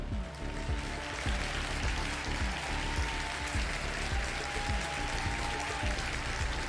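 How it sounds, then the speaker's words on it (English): Steady applause from a crowd, continuous and even throughout, with many hands clapping at once. "Big old round of applause."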